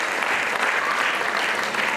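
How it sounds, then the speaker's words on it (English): At a classical dance debut recital, an audience gives a dense, steady round of applause that fills the hall evenly, loud and unbroken. "Give a big round of applause for Babu"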